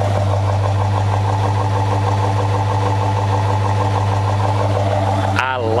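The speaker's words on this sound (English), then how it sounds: "It has a stainless steel exhaust, a Borla exhaust system from the headers all the way to the tips." A 2010 Dodge Challenger 5.7 Hemi idles through a stainless Borla exhaust, a deep, steady idle with a low throaty burble, loud and close, ending with a brief rev or shift in tone.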